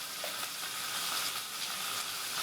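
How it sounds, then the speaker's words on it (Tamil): Okra and onions frying together in a pan for vendakkai puli kulambu give a steady, bright sizzle that stays even and close the whole time, with no talking over it. "வெண்டிக்காவும் இந்த வெங்காயம் எல்லாம் ஒன்றாவே வணங்கிடும்"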